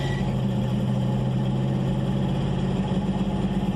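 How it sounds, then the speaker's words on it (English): V8 engine swapped into an S10 truck idling slightly high while warming up, a steady low rumble with a regular throb, close and alone. "I'm letting it idle a little bit higher right now."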